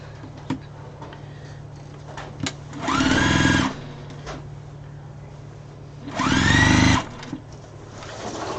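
A sewing machine stitches fabric scraps together in two short, even bursts of a few seconds each, separated by quiet pauses with faint handling noise.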